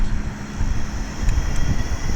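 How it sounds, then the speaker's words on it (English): Steady low rumbling wind buffets a microphone at an outdoor campsite in Australia at night, with gusty broadband roar throughout and no voices. "Pretty windy here tonight."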